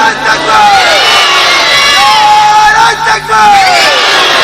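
A large crowd at a Bengali Islamic religious sermon gathering roars the takbir chant in unison, loud and sustained, rising and falling in long shouted waves with a brief dip partway through.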